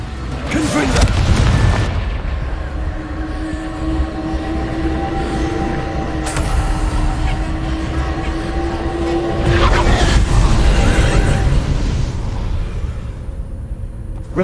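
Confringo spell blasts in the Hogwarts Legacy video game, two heavy booming bursts with crackling debris, one near the start and one near ten seconds, over a continuous loud rumbling background with a sustained tonal hum.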